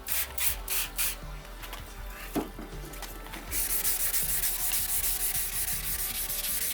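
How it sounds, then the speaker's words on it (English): Wet sanding a car headlight lens by hand with 1500 grit sandpaper and sprayed water, a steady scratchy rubbing with rhythmic back-and-forth strokes, close and continuous, with a brief spray burst partway through. "This time it's 1500 grit. Spray your water and sand again."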